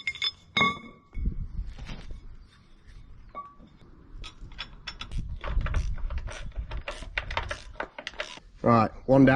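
Spare chisel plough points and bolts clink and clatter against each other in a farm setting, with sharp metallic chinks in irregular bursts, some close and loud, with brief talk in between.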